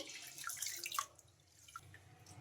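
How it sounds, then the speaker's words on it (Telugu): Rice and fenugreek seeds being rinsed in water for coconut-milk dosa batter, giving soft splashing and dripping sounds, busier at the start and then quieter, with no talking. "వీటిని ఒక 2 సార్లు శుభ్రంగా వాష్ చేసుకోవాలి"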